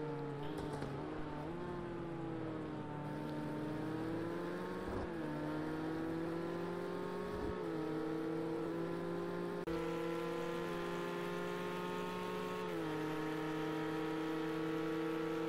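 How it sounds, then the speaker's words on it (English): Race car engine in Project Cars 2 on PS4, heard on board, a steady droning roar with pitch rising and dropping through gear shifts, continuous and close. "we're driving on board with Colin as we head into that first corner"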